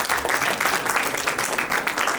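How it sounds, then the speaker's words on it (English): Crowd at a creator event applauding, a short dense burst of close, pulsing hand claps that carries evenly through its brief length. "Big applause to yourselves, please."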